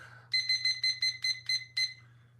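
An alarm goes off during a home workout, a clear electronic beeping in a rapid run of about eight evenly spaced pulses before it stops, heard close over a low steady hum.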